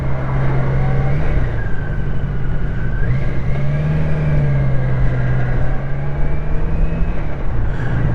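A BMW K1200LT large touring motorcycle engine hums at a steady, deep note, close and loud, with slight pitch rises as it revs.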